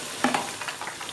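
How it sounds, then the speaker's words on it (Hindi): Garlic and ginger frying in a pan with stirring, short scrapes and a soft sizzle over about a second, close and fairly quiet, no talk. "लहसुन अदरक ऐड करके इसको 30 सेकंड के लिए आप फ्राई कर लेंगे"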